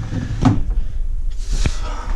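Dorm room drawer pulled open and pushed shut, a couple of woody thumps and sliding scrapes close by in a small room.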